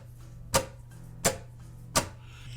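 Three punchy percussive guitar strums mixing a palm mute with a hand slap on the strings, each a crisp click with short ringing tail, evenly spaced and close up with no talking.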